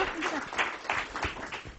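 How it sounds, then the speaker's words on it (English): Seminar audience applauds after a talk, a short steady patter of many hands clapping at moderate volume. "Let's give him a rousing applause for his riveting talk."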